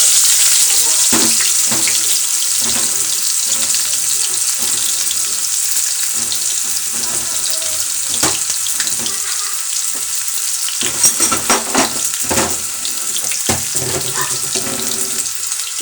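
Chopped onions, three large ones, frying in oil for a prawn and Malabar spinach dish, a steady close broadband sizzle running throughout with occasional sharper crackles and stirring scrapes, no talking.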